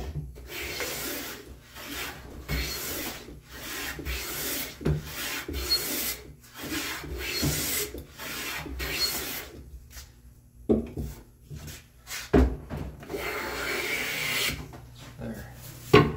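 A hand plane set for very fine shavings is pushed along a wooden board in repeated rasping strokes, each a breathy scrape with short pauses between, close and moderately loud.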